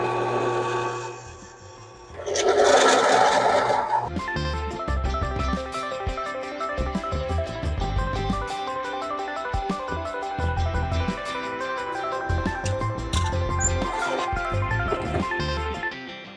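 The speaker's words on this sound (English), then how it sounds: "So now I've got my 3/4 inch countersink bit and I'm just going to countersink all these holes." A 3/4 inch countersink bit working bolt holes in a motorcycle engine diff part for a crosskart buggy chain drive spool, a loud burst of drilling followed by sustained whining and rasping cuts, steady and close.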